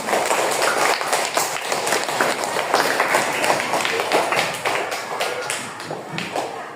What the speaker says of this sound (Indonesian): Kasih tepuk tangan dulu sama teman